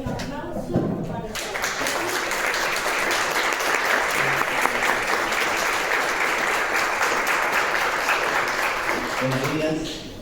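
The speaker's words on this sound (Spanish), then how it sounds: "les voy a pedir un aplauso para" An audience at a talk applauds steadily for about ten seconds, a dense wash of clapping that fades at the end as a voice begins.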